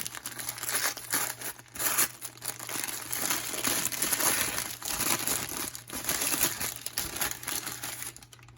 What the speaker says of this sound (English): Let's go ahead and open this up. It's probably just going to rip